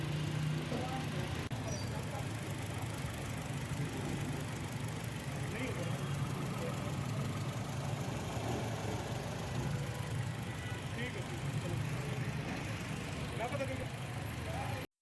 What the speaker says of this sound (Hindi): गाड़ी इस टाइम स्टार्ट है और आरपीएम माशाल्लाह इसका स्टेबल है इस टाइम